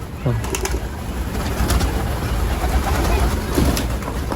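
A loft of mixed domestic pigeons coos in low, soft bursts close by, with a constant rustling, windy background and occasional sharper chirps over it.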